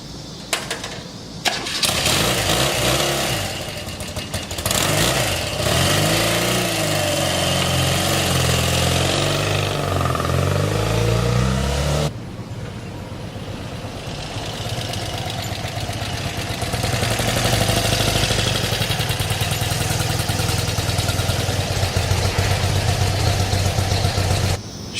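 A vintage motorcycle engine at an outdoor vintage festival starts up after a spark plug fix, cranking and catching, then running and revving loudly for around twenty seconds before settling into a steady idle.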